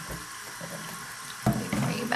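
Tap water runs into a sink while a makeup brush is washed, a soft steady splashing near the microphone with a few louder spatters toward the end.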